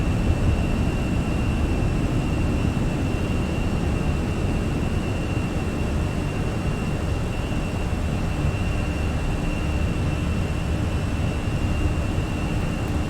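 Fenix A320 jet engines roar steadily at climb thrust in Microsoft Flight Simulator, a loud constant broadband rush with a thin high whine and no voices.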